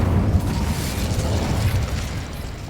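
An Incendio fire spell is cast in Hogwarts Legacy, giving a loud, steady roaring burst of flame with deep rumbling low end throughout, heard alone.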